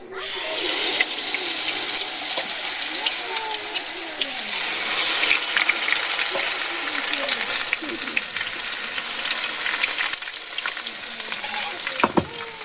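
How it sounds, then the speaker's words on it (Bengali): Pitha batter frying and bubbling in hot oil in a home kitchen, a loud steady sizzle and crackle throughout with a few sharp clinks near the end. "এই যে পিঠেটা দিয়েছি তো তেলে বুঝবুঝি উঠতেছে"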